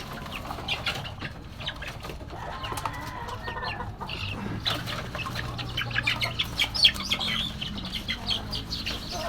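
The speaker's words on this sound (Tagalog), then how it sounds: "pakain tayo ng manok guys" Chickens cluck and squawk in a busy flock, with wings flapping now and then over a constant outdoor background.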